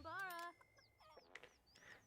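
Chickens cluck and squawk while being fed in The Sims 4 Cottage Living, a loud burst of clucking followed by softer scattered clucks and chirps close by.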